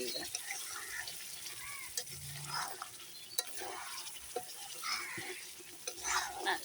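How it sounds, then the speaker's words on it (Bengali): Spice paste being sautéed in a pan, a quiet sizzle with intermittent scrapes and clinks of stirring, close by, with faint voice-like sounds in the background. "মশলা অনেকটাই কষানো হয়ে গেছে আর একটু নাড়াচাড়া করলেই হয়ে যাবে"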